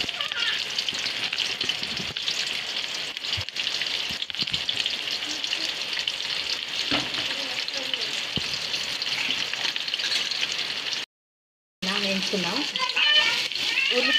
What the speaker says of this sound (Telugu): ఉల్లిపాయలు బాగా బ్రౌన్ కలర్ వచ్చే వరకు వేయించుకోవాలండి